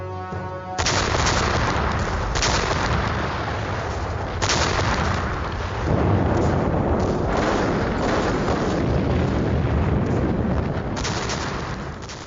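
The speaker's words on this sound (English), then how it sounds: "after Hitler's invasion of the Soviet Union, the guns of the Red Army began a ferocious bombardment of German forces in what today is Belarus." Red Army artillery fires a ferocious bombardment against German forces, a dense, continuous roar of booms and rolling gunfire that stays loud and unbroken for the whole stretch, with no voices.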